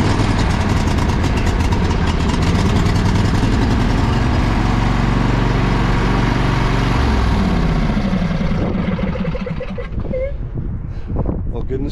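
A Briggs & Stratton Intek 20 hp V-twin on a John Deere L120 lawn tractor runs with a loud, close, steady roar, then drops away and eases down near the end.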